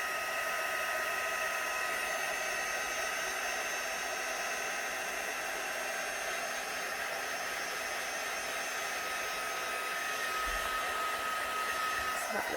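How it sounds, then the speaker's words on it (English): A heat tool blows continuously on inked embossed paper, a steady loud whooshing fan-and-air drone with a faint whine, unbroken for the whole stretch. "I'm going to give that a bit of a heat with my heat tool again"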